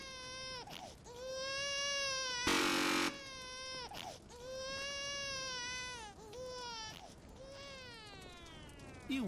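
An infant cry sound effect in The Stanley Parable video game wails in long repeated rising and falling bursts, fairly loud and close, broken once by a short blast of harsh noise.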